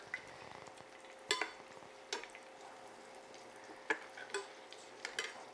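Scotch egg, a sausage-wrapped egg, deep frying in a pot of hot oil, giving a steady low bubbling sizzle with a few sharper pops and clinks scattered through, fairly quiet and close.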